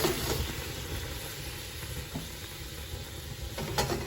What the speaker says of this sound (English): you can see the sauce is still simmering away